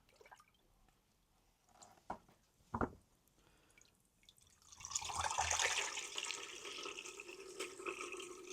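Sodium bicarbonate solution pours from a jug into a tank, heard as a steady close splash and gurgle after a few small drips and knocks, the flow fairly quiet overall.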